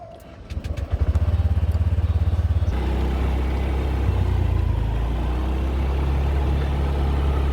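A motorbike on Koh Samui starts up with a rapid chugging idle, then settles into a steady loud engine drone as it rides off, close and continuous, with no talk.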